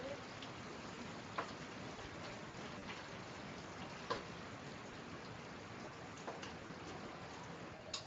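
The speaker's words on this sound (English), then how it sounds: "We're having some pretty major rain coming down right now" Heavy rain pours down in a dense, constant hiss, with a few sharper drips and taps popping out of the wash now and then, no voices over it.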